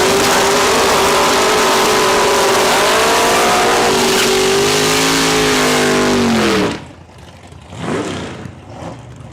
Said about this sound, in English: Jake Fiesel out of Regina in the 87 Chevrolet Camaro in the left-hand lane